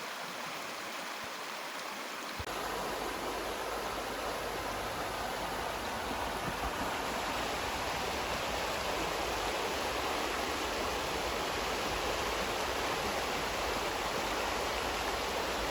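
A river flows with a steady, broad rushing wash throughout during a crossing on foot, close and continuous, with no voices.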